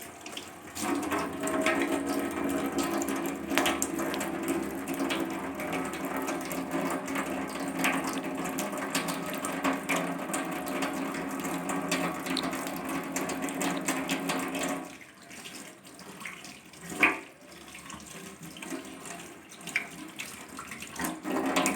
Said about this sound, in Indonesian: kita seharusnya melakukan cuci tangan dulu.